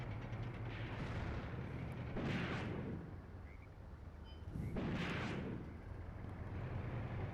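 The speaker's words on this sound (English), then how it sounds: "The rockets begin to fall." Rocket artillery lands in a WWII Eastern Front tank battle in the Graviteam Tactics: Mius Front war game, with a few heavy, rumbling blasts rolling in one after another over a constant low battlefield drone.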